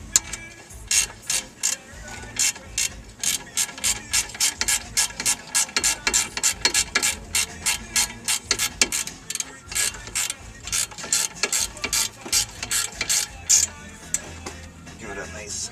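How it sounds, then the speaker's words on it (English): A ratchet wrench clicks in a steady, rapid series of sharp close ticks throughout a brake job on an Infiniti G20, with quiet talk faintly underneath. "This has a ratchet end, so this makes it a lot easier for me."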